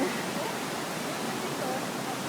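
A hidden waterfall pours in a steady, broadband roar that fills the whole stretch, close and constant, with voices faintly mixed into the rush.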